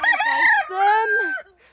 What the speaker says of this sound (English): that cockerel keeps wanting to crow